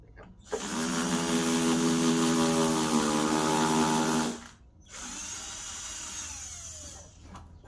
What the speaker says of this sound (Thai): เดี๋ยวผมเจาะให้เสร็จก่อน